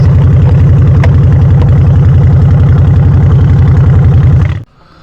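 A 2020 Honda Shadow Aero motorcycle engine idles with a loud, close, steady low-pitched lope for several seconds, then shuts off abruptly, leaving quiet.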